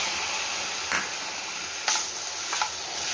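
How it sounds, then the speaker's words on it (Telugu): Two chopped tomatoes fry in a pan with fenugreek seeds, giving a steady, close sizzle and hiss with occasional sharp clicks of stirring. "బాగా వేగనివ్వాలి."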